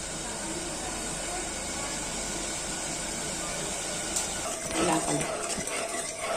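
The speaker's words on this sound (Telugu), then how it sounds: "ఇలా బాగా కలుపుకుంటూ ఉండాలి. చక్కెర అంతా కరిగి పాకం రావాలి." Sugar syrup is stirred in a pot on a stove as laddus are made, with a steady broadband hiss of heating liquid and a few louder scraping strokes near the end; no talk is heard.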